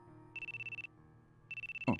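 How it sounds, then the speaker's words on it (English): Phone ringtone from the video game Dies Irae: a bright, buzzing electronic trill plays in two short bursts separated by a pause, with a soft background music bed underneath. "My phone? Who could be calling me?"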